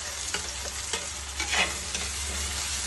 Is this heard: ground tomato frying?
yes